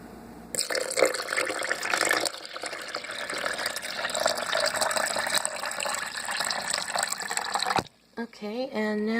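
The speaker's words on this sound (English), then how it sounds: "And now I'm going to pour in the water." Water pours steadily into a blender with a gushing, splashing rush, then stops abruptly; a short voice follows afterward.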